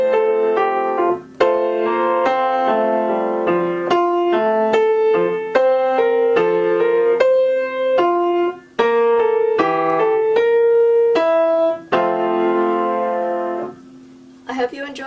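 Piano piece played with accented, almost staccato chords, a steady run of loud struck chords and single notes with brief gaps, close and clear with no talking.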